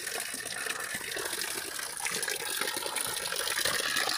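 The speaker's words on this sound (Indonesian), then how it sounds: "setelah sekian lama perjalanan, ini nemu mata air nih" Spring water flowing from a mountain source on a hiking trail at 1250 meters, a steady close gush and splash that continues throughout without pause, fairly loud and alone.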